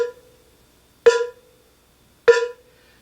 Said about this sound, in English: Now that creates a nice warm tone on the edge of the bell.